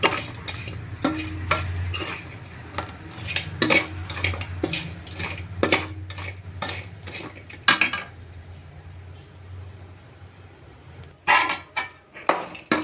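Menthi pappu frying in a pan on the stove: repeated clinks and scrapes of a spoon stirring against metal over a low, steady sizzle, then a short quiet stretch and a final burst of stirring clatter.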